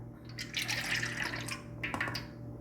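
Thick coconut milk pours steadily into a pot, a gurgling splash that swells and then trails off in short drips.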